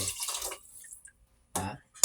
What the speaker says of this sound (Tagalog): Lalagyan natin ito ng tubig.